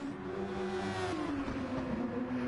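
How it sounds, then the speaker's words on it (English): Race cars lap a track in a racing video game, heard quietly. An engine whine holds steady, then shifts pitch downward as others buzz underneath, with no speech. "Got a lot of cars driving around here."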